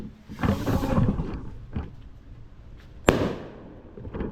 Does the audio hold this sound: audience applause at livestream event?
no